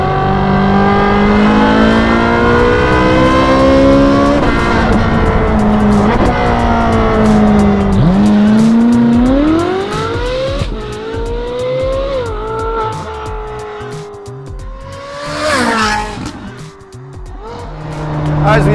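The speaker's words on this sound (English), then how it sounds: "A hard acceleration and a quick shift, even not at the highest revs." A 4.5-litre naturally aspirated car accelerates hard through the gears with a quick upshift, a loud rising engine howl that drops and climbs again, ending with a brief burst near a tunnel.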